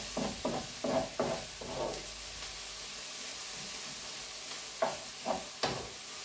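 Onion browning in a frying pan while a pork and apple sausage roll filling is made. A soft, steady sizzle runs throughout, broken by a few clattering stirs near the start and again at the end.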